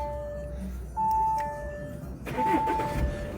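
An Audi A6 190 hp quattro engine turns over and catches near the microphone, its idle settling into a steady rumble with a brief chime in the cabin.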